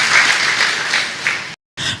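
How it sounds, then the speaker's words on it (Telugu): A church congregation at a Christian worship service claps loudly in praise, a dense, sustained burst of applause that cuts out briefly near the end and then resumes. "గట్టిగా చప్పట్లు కొట్టి ప్రభుని మహిమపరుస్తాం."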